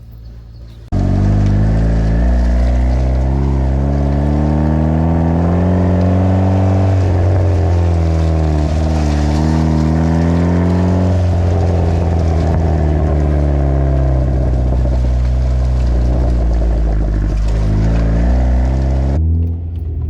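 Honda CR-V, 1997–2001 model, out on a test drive, its engine holding a loud, steady drone with gentle pitch rises and falls as it gathers speed, heard from inside the cabin with no talk.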